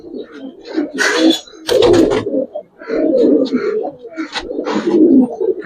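Giribaz and coloring pigeons at a loft coo in repeated low throaty bursts, several birds overlapping close by, with brief sharper wing or call noises between phrases.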